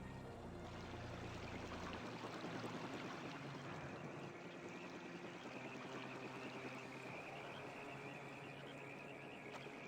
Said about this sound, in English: This is the big waterfall.